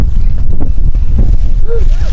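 Strong wind buffets the microphone with loud, gusty low roaring, and a few faint voices are heard underneath.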